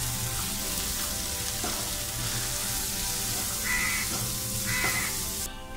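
Garam masala, coriander powder, cumin powder and red chilli powder frying in oil over low gas heat, a steady soft sizzle throughout with occasional brief clinks of stirring.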